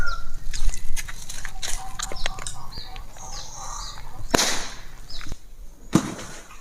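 Firecrackers go off in a few loud, sharp bangs, with the biggest burst near the end, among chickens clucking and birds chirping nearby.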